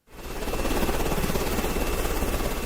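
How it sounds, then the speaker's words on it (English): A helicopter flying over post-hurricane New Orleans: a loud, close, steady rotor chop with a broadband engine roar that starts abruptly and runs throughout, with no voices. "This footage was shot from a helicopter hired by the Final Call newspaper"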